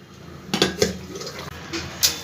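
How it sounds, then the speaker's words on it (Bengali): A cooking pan lid is lifted during preparation of a thin rohu fish curry with cumin and ginger paste, giving a few metallic clanks and knocks close by, with light liquid and utensil noises between them. "ঢাকনাটা আমি এবার একটু খুলবো।"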